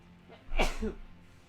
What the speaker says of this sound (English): Oh no, I sneezed.